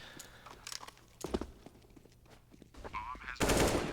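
Gunfire in Counter-Strike on the Mirage map during a competitive esports match, with scattered sharp bursts and a dense spray of shots toward the end, heard alongside game ambience.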